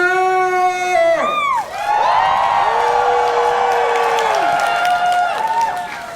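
A crowd at a furry convention's fursuit dance competition cheers and whoops loudly, a sustained roar of voices and applause filling the hall, with an announcer's amplified voice ringing over the start.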